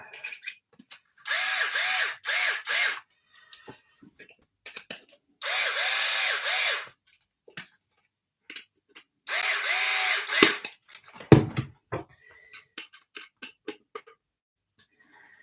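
A power screwdriver tightens screws into the graphite chassis of a Yokomo SO2.0 RC car, sounding as three separate whirring bursts about two seconds each, with small tool clicks and handling noises between them, close and loud.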